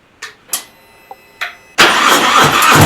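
Motorcycle engine starting, a few short cranking bursts and then a loud steady roar as the engine catches, all close by.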